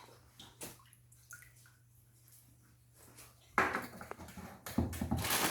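Water poured into a measuring cup for a Mongolian beef sauce, a quiet trickle with small clinks at first, then a louder rushing pour splashing in near the end.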